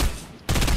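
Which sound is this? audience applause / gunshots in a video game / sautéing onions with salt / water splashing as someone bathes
gunshots in a video game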